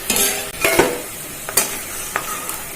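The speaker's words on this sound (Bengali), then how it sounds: "দেখুন আলুটা হালকা ভাজা ভাজা হয়ে গেছে, এবার মা তুলে নিচ্ছে আলুটা।" Potato pieces frying in oil for a Bengali tomato potato curry, a close sizzle broken by several scraping stirs and clinks of a spatula as the lightly fried potatoes are lifted out.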